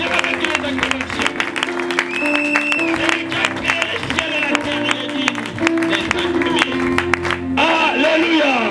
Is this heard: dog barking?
no